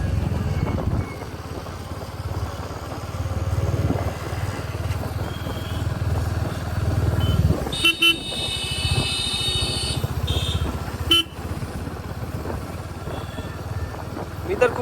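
Motorcycle ridden along a road near Ambadi Naka toward Maradepada, Bhiwandi, in rainy weather; a low, steady engine drone runs under rushing wind buffeting, with brief sharper bursts partway through.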